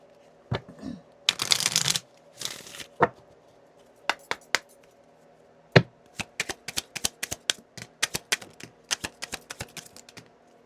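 Oracle cards are shuffled close up in quiet surroundings: two bursts of riffling, then a long run of crisp, irregular taps and snaps as cards are cut and laid down, with no talking.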